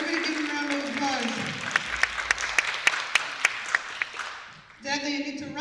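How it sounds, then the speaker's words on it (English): An audience at a community tea and storytelling event claps, producing a spread of scattered, distinct claps that fade out, with voices around them. "Everybody give them a round of applause."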